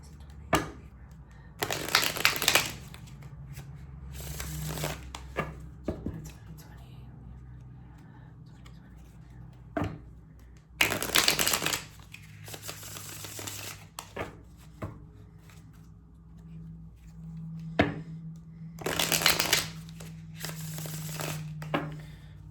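A tarot card deck being shuffled in bursts of riffling and flicking, several separate runs of close, crisp card noise with quiet pauses between, while a person talks softly.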